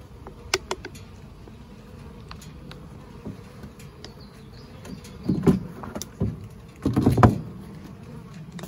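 Honey bees buzz around backyard hives during a honey harvest, a faint, steady hum with a few louder close passes near the end and no voices.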